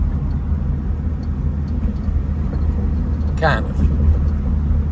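A 1965 Ford Thunderbird cruises with a low, steady engine rumble and road noise from inside the cabin, while someone talks over it.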